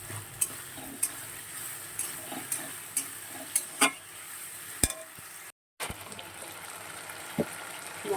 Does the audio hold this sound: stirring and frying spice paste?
yes